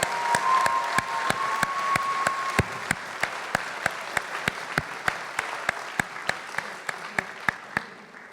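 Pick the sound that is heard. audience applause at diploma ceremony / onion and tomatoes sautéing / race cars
audience applause at diploma ceremony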